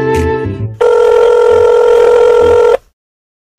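A telephone rings loudly in a Bangla comedy cartoon, one sustained electronic ring of about two seconds that cuts off sharply into silence.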